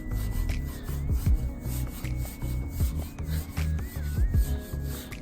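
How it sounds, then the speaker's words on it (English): Plasti Dip overspray is scrubbed off a Volkswagen Vanagon with steady back-and-forth rubbing strokes, close and continuous, about two strokes per second, with no talking. "Just scrub it off and it comes right off"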